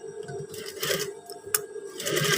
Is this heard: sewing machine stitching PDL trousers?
yes